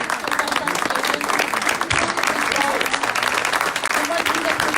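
An audience at a live education event in Nanterre applauds continuously, dense hand clapping filling the room throughout, fairly loud and sustained.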